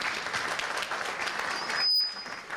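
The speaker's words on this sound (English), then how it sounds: "Please give her a round of applause." An audience at a program honoring American women in cinema breaks into sustained applause, a steady wash of many hands clapping that holds at an even level throughout, with a brief high whistle-like tone near the end.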